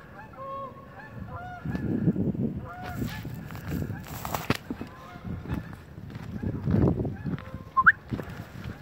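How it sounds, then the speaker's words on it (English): Canada geese honk repeatedly as they fly over a river valley, a chorus of nasal calls drifting at a moderate distance over outdoor ambience and footsteps. "Canadian geese flying over the valley."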